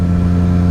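A motorcycle engine in sixth gear at 4,000 RPM, around 44 mph, holds a steady, loud, low drone with no change in pitch over a brief moment.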